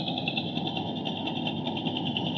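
Trawler boat engine on the Turag river running with a steady, loud, throbbing drone and a high whine layered over it, continuous throughout.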